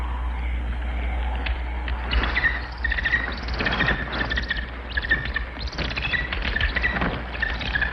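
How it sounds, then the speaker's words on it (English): A bird calls in a forest setting, sending out repeated chirps and short trills at mid distance over a low, steady hum. "That bird, he attacked me."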